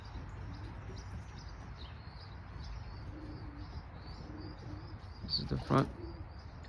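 Pigeons in a 35-foot backyard loft coo and chirp steadily in the background while someone speaks briefly near the end.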